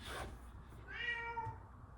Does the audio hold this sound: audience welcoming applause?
no